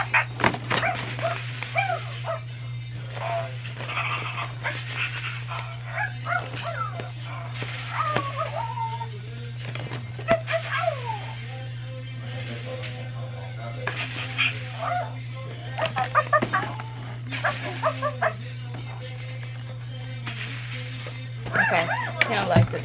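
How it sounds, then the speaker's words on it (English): A dog barks and whimpers indoors at home during preparations for a child's first birthday party, with short yips and cries scattered among steady adult talk over a constant low electrical hum. "Okay, he don't like the dog."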